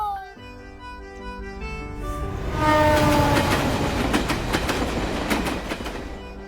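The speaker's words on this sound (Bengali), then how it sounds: "ট্রেনে ট্রাভেল করছি, এসি ফার্স্ট ক্লাস" A passenger train in motion heard from inside an AC first class carriage: steady rumbling wheel noise builds and grows louder, with a horn or whistle tone early on and rhythmic rail clatter throughout, no talk.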